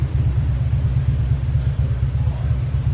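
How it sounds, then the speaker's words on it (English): Steady low rumble of cars idling and rolling on the road behind a driver on the Blue Ridge Parkway, a continuous engine drone with no voices. "There's cars behind me."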